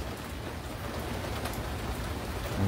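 Steady rain falls outdoors on a city street, a dense, even hiss of drops on surfaces with no voices.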